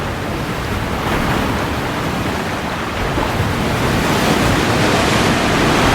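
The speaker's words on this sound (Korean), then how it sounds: "날마다 션을 덮치는 파도" Ocean surf roars without pause as waves break over a surfer, a dense loud rush of water that swells slightly toward the end, with wind noise mixed in and no voices.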